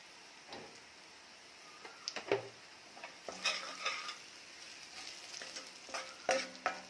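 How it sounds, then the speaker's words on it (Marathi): Kolhapuri onion-garlic chutney masala with a pinch of turmeric frying in oil for a drumstick recipe, a soft low sizzle broken by intermittent scraping and clinking of a spoon against the pan. "चटणी म्हणजेच मसाला छान तेलावर परतून घ्यायचा आहे"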